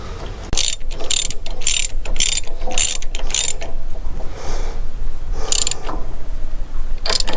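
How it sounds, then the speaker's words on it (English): A ratchet wrench clicks in quick bursts as it tightens a spark plug back into a small engine, close and loud, with a short pause and then a few more strokes near the end. "so we'll put the spark plug back in"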